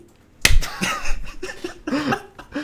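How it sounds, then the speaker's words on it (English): A single sharp clap rings out near the mic, followed by scattered softer taps and background chatter. "That was the second clap."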